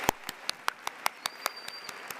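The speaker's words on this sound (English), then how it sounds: "I will ask that you give a round of applause to all of your friends, parents, and teachers who have worked so hard" A small graduation audience claps in a sparse, even rhythm of about a dozen distinct hand claps, fairly close and quiet, with no talking over it.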